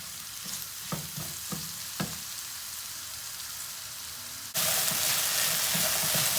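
Steady close sizzling of onions frying in a hot pan with solid fat and oil, with a few light stirring taps, suddenly growing louder partway through.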